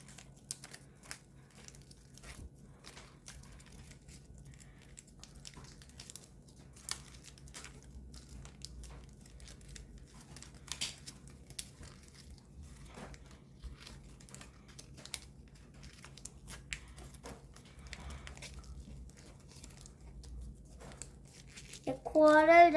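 Quiet, close paper folding for an origami ninja spinning top: sparse crinkles and small taps over a long stretch, with a brief voice entering at the very end.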